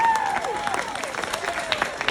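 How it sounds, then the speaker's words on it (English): An audience at a live magic and illusion show in South Lake Tahoe claps steadily, a moderate crowd applauding over thin lingering tones, no talk. "Give Tanya a big round of applause."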